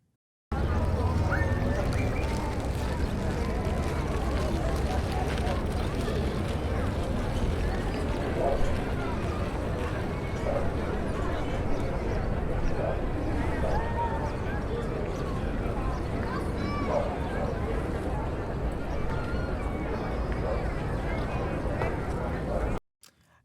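A crowd recording upscaled to third order Ambisonics gives a constant wash of overlapping chatter, shuffling and movement, evenly loud from start to finish, then cuts off abruptly at the end.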